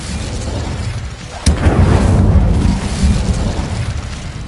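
A fire spell called Incendio is cast in a video game. A sudden whooshing burst of flame erupts partway through and is followed by a sustained, roaring crackle of fire over a low rumbling background.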